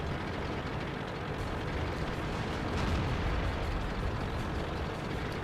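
A Churchill Mk. 1 British heavy tank cannon fires in World of Tanks, a heavy booming blast folded into a dense, continuous roar of battle noise with a slight swell midway.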